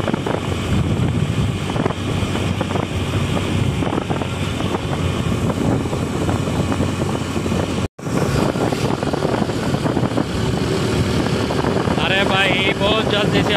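A 2023 Yamaha YBZ DX motorcycle ridden on a paved road, its engine droning steadily under heavy wind buffeting the microphone, with a brief dropout partway through.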